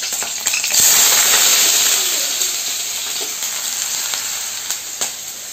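Green chillies and potato land in a hot pan for sago khichdi, bursting into a loud, close sizzle that stays steady and slowly eases, with small crackles and pops throughout.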